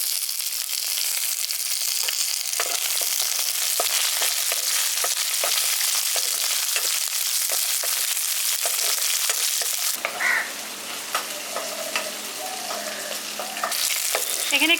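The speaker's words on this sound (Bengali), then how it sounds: "এখানে ক্যাপসিকাম পেঁয়াজ সবগুলোকেই ভাজা হয়ে গেছে।" Onion and capsicum frying in a pan for a village-style potato Manchurian, a steady close sizzle with occasional stirring scrapes, the hiss thinning out and changing after about ten seconds.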